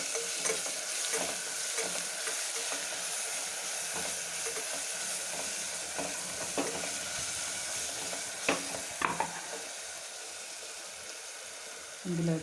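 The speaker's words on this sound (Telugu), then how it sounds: "ఇవంతా బాగా పచ్చివాసన పోయేంత వరకు వేయించుకోవాలి" Ginger-garlic paste and turmeric fry in oil for a Rayalaseema-style boti liver curry, giving a continuous sizzle with scraping stirs and spoon knocks against the pan.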